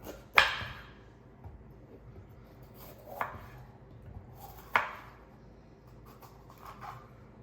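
A knife cutting a green pepper on a cutting board in a home kitchen, a few sparse, crisp slicing knocks separated by quiet pauses, close and fairly soft.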